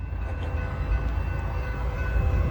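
A Norfolk Southern freight train rolls past close by, a steady heavy rumble of wheels and cars with continuous rail noise throughout.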